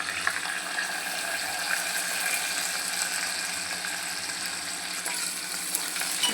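Garlic frying in hot oil for a dal tempering, with mustard seeds, cumin and curry leaves already in the pan, gives a steady close sizzle with faint crackles throughout, no voices over it.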